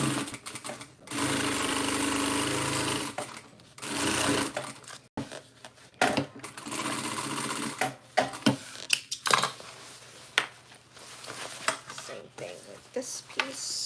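A sewing machine stitches through layered tote bag fabric in several bursts, first a sustained run and then shorter stop-start runs, close and fairly loud, while a person talks briefly between stitching.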